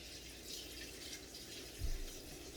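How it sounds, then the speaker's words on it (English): Running tap water pours over vegetables for a quick rinse in a home kitchen, a soft steady hiss of flow with a brief heavier splash near the end, no talk. "that's a quick rinse"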